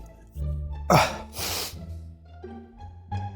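A sharp, breathy burst of air, like a sneeze caught and held back, followed by a rushing exhale, heard close up with no talking.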